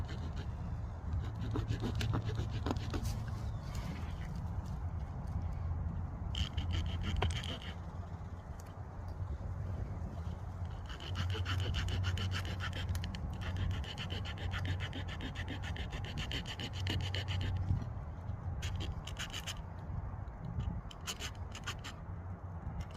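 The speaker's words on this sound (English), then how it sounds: "I want to make slots about 1/4 to 1/2 inch into the board, and just a couple slots on each side, and I'll do that with my saw" A hand saw cuts shallow slots into a wooden board for a compass ottoman build, making repeated rhythmic rasping strokes back and forth, close and steady, with brief breaks between passes.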